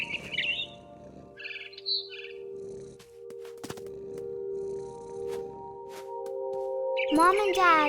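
A barn swallow in the video game What Remains of Edith Finch chirps in short high bursts, alongside game music tones and a sweeping sound near the end, over a fairly quiet background.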